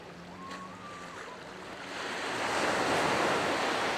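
A speed boat passes on the Arabian Sea off Gokarna beach. Its engine hum blends with surf and wind noise that swells louder toward the end, and no one speaks.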